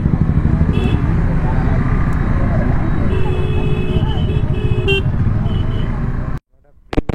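A crowded roadside market on the way to Purulia fills the air with a dense, constant roar of traffic. Car horns toot several times over a busy crowd murmur, and the sound cuts out abruptly near the end.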